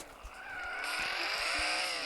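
Car driving and skidding in a video game, a steady engine drone with sustained tire squeal that builds and holds, plus a few low thumps.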